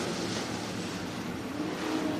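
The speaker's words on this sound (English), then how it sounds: "First of 3 heat races for the Sunoco IMCA Stock Cars is underway" Sunoco IMCA Stock Cars at Coos Bay Speedway run a heat race, their engines a continuous distant roar blending into a steady, even drone.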